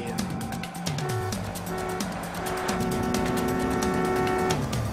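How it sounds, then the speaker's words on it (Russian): Several car horn honks, some long and some short, sound over steady road and engine noise, with a voice faintly present. "Слышь, Дэн, походу нам сигналят."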